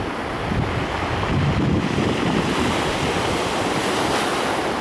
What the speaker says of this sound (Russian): Совсем небольшой ветерок у моря.